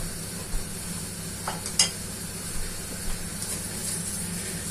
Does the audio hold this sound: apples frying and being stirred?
yes